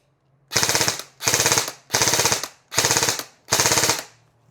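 Five loud bursts of rapid full-auto fire from an airsoft gun, each burst lasting about half a second with short silent gaps between them.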